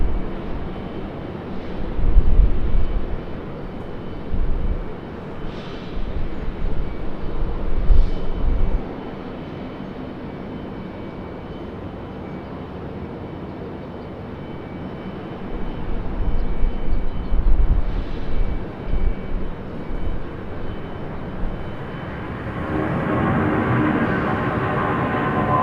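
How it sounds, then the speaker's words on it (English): A Boeing 757 airliner rolls for takeoff at an airport, its jet engines a broad, steady roar that surges and fades in loudness, heard from a distance without speech. "757 getting ready to get a move on here. And she's rolling."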